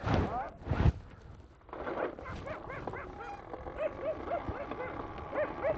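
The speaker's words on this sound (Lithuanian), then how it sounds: "piktas šuo, piktas." An angry dog yips and barks in short, high bursts, fairly faint and at a distance, while people talk nearby.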